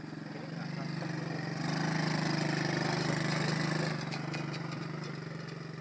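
An ATV engine idling on a muddy outdoor ride gets a light touch of throttle, its steady low drone swelling briefly in the middle before settling back.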